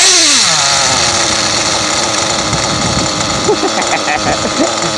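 A brand-new Pisano chainsaw engine revs down and settles into a loud, steady idle close by, its rough two-stroke putter continuing throughout with slight unevenness.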